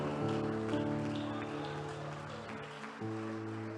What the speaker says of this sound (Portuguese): Aplauda o Senhor Jesus Cristo, mas aplauda dando glória ao nome dele.